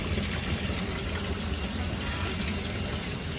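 Hot water tank refilling after a flush, a dense, steady rush of water running continuously at a constant level.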